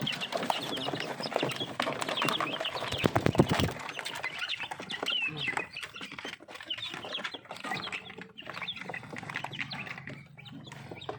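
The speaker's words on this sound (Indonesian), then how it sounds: "Pagi-pagi ini ayam bangkoknya sangat lapar sekali teman-teman" Bangkok chickens on a farm cluck and squawk busily at morning feeding, a close, continuous chorus of overlapping calls with scratching and rustling underneath.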